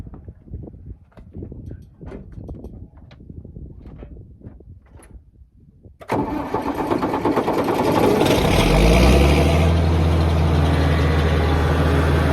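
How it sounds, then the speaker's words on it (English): A 2+2 articulated farm tractor engine cranks and catches at about six seconds, then settles into a loud, steady idle with a deep low rumble that swells and holds near the listener; the first half is quieter, with scattered clicks and thumps. "So I'm gonna have to fire the tractor up and articulate it."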